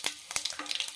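Chana dal and urad dal sautéing in hot oil with mustard seeds over a slow flame, a close crackling sizzle with quick sputtering pops over about a second.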